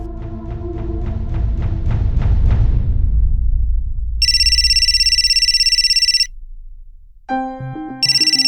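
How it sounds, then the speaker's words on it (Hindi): A phone ringtone plays in a home, first a repeating electronic chime melody, then a bright sustained ringing tone that pauses and resumes, loud and near with no speech. "अरे किसका फोन है और आप उठा काहे नहीं रहे?"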